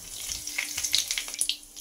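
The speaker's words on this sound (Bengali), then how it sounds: "এবার এই তেলের মধ্যে দিয়ে দেব 1/2 চামচ গোটা জিরে ও একটা তেজপাতা" Whole cumin seeds and a bay leaf fry in hot oil with a light, steady sizzle and scattered sharp pops and crackles nearby.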